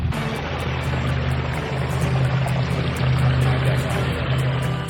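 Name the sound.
water flowing in a pondless waterfall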